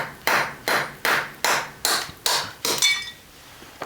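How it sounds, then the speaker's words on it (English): Seven sharp hammer blows strike a scrap computer server, evenly spaced about every half second, loud and close with metallic ringing after each hit, then the ringing fades into quiet. "Start with a hammer."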